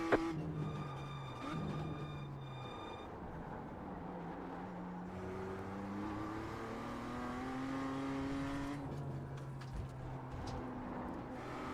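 A racing car laps a track during a Friday night feature race, heard from onboard. Its engine note climbs and drops repeatedly through gear changes and corners, loud and continuous for the whole stretch.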